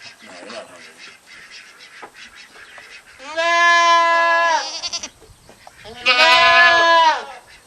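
Two long, loud wavering bleats from horned goats on a jungle farm ring out close by, separated by a pause, after a stretch of quieter background sound and low voices.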